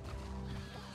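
A horse neighs in Avatar: Frontiers of Pandora, one short whinny rising out of low game ambience with a faint background hum, quiet overall.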